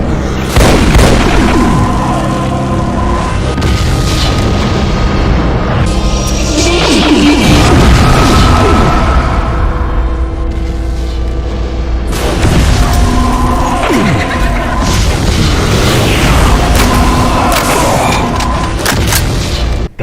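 Blast-radius explosion from an Archvile variant's flame attack in a Doom mod, a sustained series of loud booming crashes and bursts lasting about twenty seconds, dense and close with no speech.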